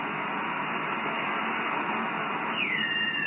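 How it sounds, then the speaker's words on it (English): Amateur radio band noise from a receiver, a constant loud hiss of static with a faint tone sweeping down in pitch near the end. "So we are hearing signals."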